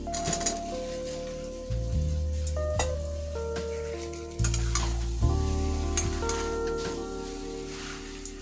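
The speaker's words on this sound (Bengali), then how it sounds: "ছোলা দিয়ে ভালো করে নাড়াচাড়া করে মশলাগুলো মিশিয়ে নিয়ে একটু ভাজার পর জল দিতে হবে" Spices and boiled chickpeas sizzle and hiss in a hot pan while a utensil stirs and scrapes, with a melody playing in the background.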